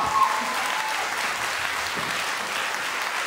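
Audience applause after a musical battle of video game and mobile game classics, a dense, continuous wash of many hands clapping, steady and fairly loud, with no distinct individual claps standing out.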